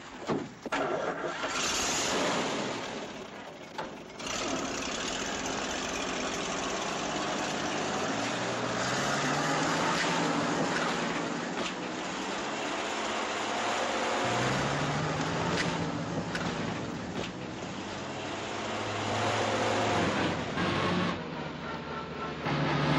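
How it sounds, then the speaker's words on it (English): An all-wheel drive military vehicle's engine races hard while stuck in mud, a loud continuous roar with rising and falling revs and grinding strain through the whole stretch, no voices over it. "Keep racing that engine and get us in so deep we'll never get out."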